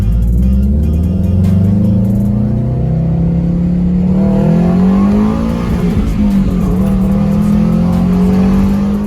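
A 2002-2007 Subaru WRX STI fitted with a Mishimoto cold air intake accelerates from a roll, its engine roaring loudly and climbing in pitch. The growl stays close and builds through a gear change before holding high, with no talking.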